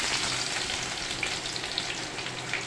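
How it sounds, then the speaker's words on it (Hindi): Finely chopped onion fries in hot oil in a kadhai, leftover from frying pakoras, giving a steady, dense sizzle that stays even and fairly soft throughout, with no talking. "बारीक की हुई कटी हुई प्याज है, इसको जो है ये कढ़ाई के अंदर ऐड करूँगी। इसी ऑयल के अंदर, गरम गरम ऑयल है"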